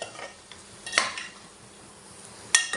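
A spoon stirs and sautés amaranth stems with val beans in a pan, giving a few light metallic scrapes and clinks against the pan over a faint background sizzle, close and without talk.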